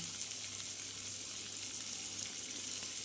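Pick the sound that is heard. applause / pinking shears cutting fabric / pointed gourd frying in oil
pointed gourd frying in oil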